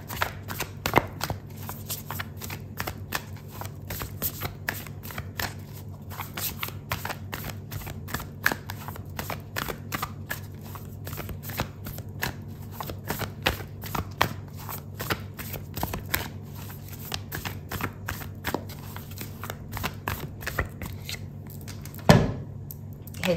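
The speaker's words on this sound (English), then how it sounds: "I'm gonna pull out an oracle card for you," A deck of oracle cards is shuffled continuously for over twenty seconds, giving a dense, rapid riffle of close papery slaps and flicks. Low background hum runs throughout, with no talk.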